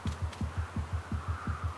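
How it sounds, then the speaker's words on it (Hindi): Steady, rapid heartbeat effect from the video game ARK, a run of about nine deep, soft thumps at an even pulse, close and alone without speech. "फिर से दिल की धड़कन तेज हो गई है। अच्छा रनिंग के टाइम पे और तेज से धड़क रहा है।"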